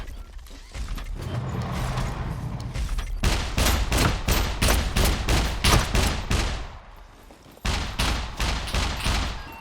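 Loud automatic gunfire in the video game Scum, fired in rapid sustained bursts with sharp repeated cracks, a brief pause, then another burst.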